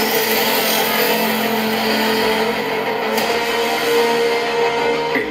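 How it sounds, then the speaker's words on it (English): Dual front-firing speakers on a Pixelbook Go laptop play a movie clip, a dense, steady wash of rumbling action sound effects and score at a constant loud level. "For audio, we have dual front-firing speakers that sound like this."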